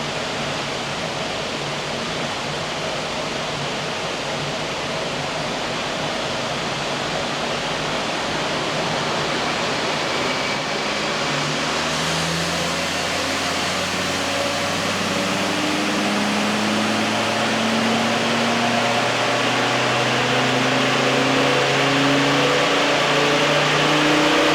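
A Land Rover Td5 diesel engine with GTB equipment runs hard on a dyno, a loud steady roar whose pitch climbs steadily through the second half as it revs up, with no talking.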